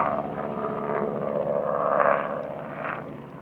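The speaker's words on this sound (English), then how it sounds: "That was a gentle flyby versus yesterday." A military aircraft passing overhead on Nevada's Extraterrestrial Highway, a broad engine roar that swells to a peak midway and then eases off, steady and fairly loud with no talk over it.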